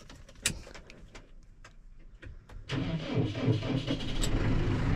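A 4-cylinder tractor engine cranks briefly and catches without hesitation, then settles into a steady, fairly loud running rumble with light knocks and clatter before it fires.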